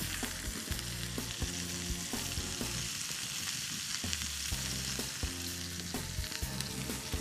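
Chickpea fritters frying in hot oil give a steady, dense sizzle with bubbling and crackle, loud and continuous throughout, and no talking.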